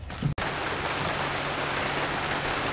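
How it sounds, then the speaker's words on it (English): Steady, dense rain drums on a boat at anchor during bad weather, a loud continuous hiss of drops after a brief knock at the start, with no voices. "Well, the bad weather finally showed up. It's raining."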